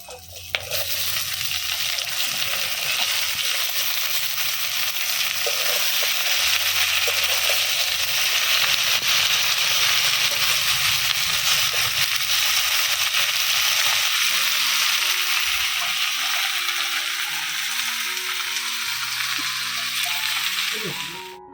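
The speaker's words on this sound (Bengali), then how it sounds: "আমার ফোড়ন হয়ে গেছে, এবারে শাক ছেড়ে দেব।" Malabar spinach greens dropped into tempered oil, a rural-style pui shak ghonto with rohu fish head, frying in a pan with a loud steady broadband sizzle and occasional stirring scrapes, close and continuous with no talking.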